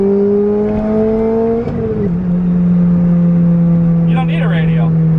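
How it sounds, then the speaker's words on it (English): Lotus Exige engine heard from inside the car with a steady droning hum that briefly rises and then settles, and a voice speaks over it. "Listen to this engine, guys."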